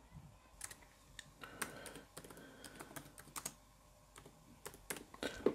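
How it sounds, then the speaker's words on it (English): A folder name is typed on a computer keyboard, with quiet, close key clicks in irregular bursts against a faint background. "And then type in the name of the folder."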